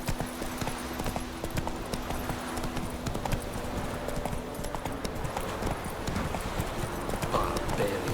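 Geralt's horse Roach gallops in The Witcher 3, hooves pounding in a steady, rapid clip-clop under a constant dense wash of game ambience, without pause.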